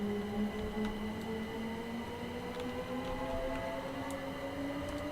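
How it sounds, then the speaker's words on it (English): An electric passenger train rolls along the West Coastway line in Sussex in a train simulator game, giving a steady low motor hum with rising tones and faint clicks, moderately quiet and continuous, with no voices. "Hopefully you can hear the sounds of this lovely train."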